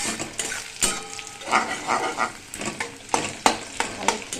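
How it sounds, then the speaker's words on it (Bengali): Onions frying in a pan with oil, turned and stirred for red browning, giving a steady close sizzle broken by repeated scraping and stirring strokes. "এদিকে পেঁয়াজটা বেশ ভাজা হয়ে এসছে লাল করে"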